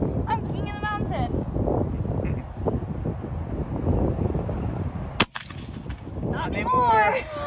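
An airgun fires at an iguana outdoors with a single sharp crack partway through. People talk over wind noise before and after the shot, and birds call in the background.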